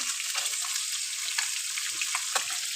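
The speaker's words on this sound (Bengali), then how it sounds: "এখন এই যে মাছ ভাজা চলছে কড়াইয়ে" Fish sizzles and crackles steadily in hot oil in a wok, with a few soft pops and faint clinks from stirring, no voices.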